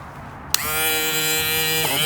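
A cheap handheld rotary tool switches on with a click and then buzzes steadily and close as it buffs a cloudy car headlight, with no voices.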